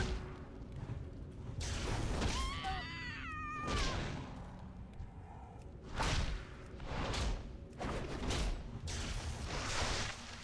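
A cat in World of Warcraft lets out one clear, rising and falling meow in the middle of the stretch, set among soft thumps, whooshes and game noise.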